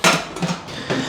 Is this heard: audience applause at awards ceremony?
no